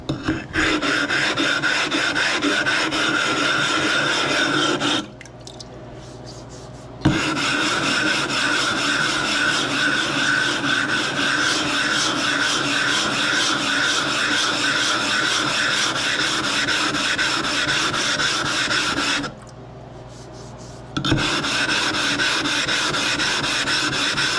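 Steady, rasping back-and-forth scrape of a blade being sharpened on a King waterstone, 1000/220 grit, loud and close, running continuously with two short pauses.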